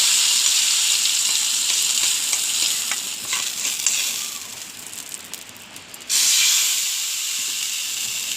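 Hot tempering of oil, onion and curry leaves poured into a clay pot of sardine curry, giving a loud, steady close-up sizzle and hiss that eases midway, then surges back sharply near the end.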